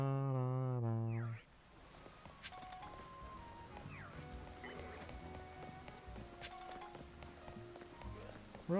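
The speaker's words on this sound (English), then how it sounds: "it is raining" Rain in the Pokémon Legends Z-A game patters softly and continuously under game music and effects, following a louder tonal swell at the start.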